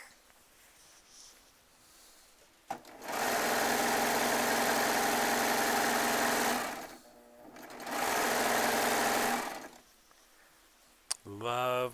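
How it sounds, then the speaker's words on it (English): A Baby Lock Triumph serger runs in two sustained bursts of steady, loud mechanical whirring, each several seconds long, separated by a short pause, with quieter background between and a brief voice at the end. "Especially when I'm in front of my baby lock sewing and serging quilting machines"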